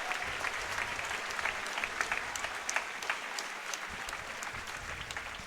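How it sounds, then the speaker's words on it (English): Audience at a 2019 CubingUSA Nationals speedcubing competition applauds steadily, a sustained wash of many hands clapping at moderate distance, fairly faint and continuous. "Can we give a big round of applause for all the staff?"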